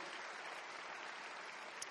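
A congregation applauds for a pastor at a church congress, a dense, steady wash of clapping that holds for the whole moment without a break.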